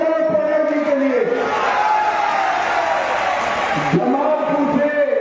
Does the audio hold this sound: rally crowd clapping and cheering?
yes